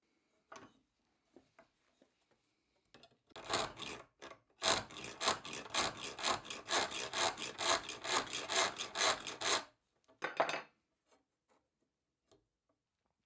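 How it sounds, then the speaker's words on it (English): Replica Viking hacksaw modeled on the Mästermyr find cutting a piece of iron held in a replica Hedeby clamp; steady rhythmic rasping strokes, close and fairly loud, running for several seconds after a few light taps, then a short final burst. "Let's see if we can actually saw with the replica of the hacksaw from Mästermyr in a piece of iron that is becoming a saw blade"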